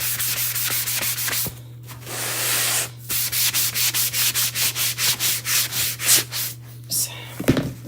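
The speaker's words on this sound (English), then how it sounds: "we're really just rubbing in that wax, giving it a nice shine" Wax being rubbed into a chalk-painted surface with a cloth, a rhythmic series of short scrubbing strokes that speed up into a steady back-and-forth pattern, close and moderately loud over a constant low hum.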